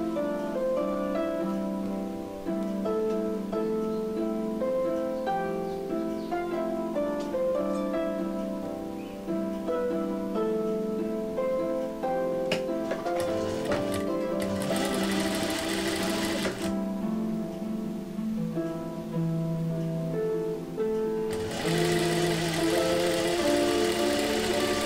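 A domestic sewing machine runs steadily, stitching the pieces of a patchwork heart block with a continuous whirring hum, pausing briefly and restarting with a brighter mechanical rattle near the end.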